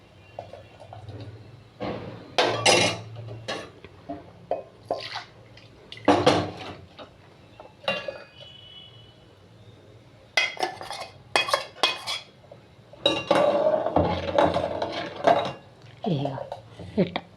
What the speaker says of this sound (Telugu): ఎప్పుడైనా పోసి ఇట్లా తిప్పుకోవాలి జావ.